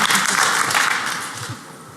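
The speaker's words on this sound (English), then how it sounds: "let's give a round of applause for that song as well" Audience applause at a security conference awards ceremony, a broad wash of clapping that gradually thins and fades over two seconds.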